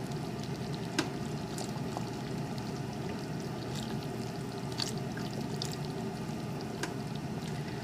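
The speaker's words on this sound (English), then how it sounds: "Now we are going to start adding our milk 1 cup at a time." Milk poured into a pot of homemade potato soup, a continuous soft liquid pour with faint bubbling and a few small clicks, quiet and close.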